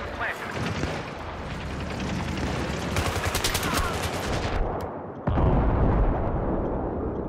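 A planted charge detonates in Battlefield 3 with a sudden loud, close blast, following a stretch of dense gunfire and rumbling combat noise.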